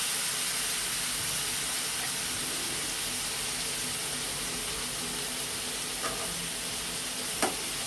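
Spices and sugar sizzle in a pan after a splash of water, giving a steady, moderately soft hiss with a couple of faint clinks of stirring near the end.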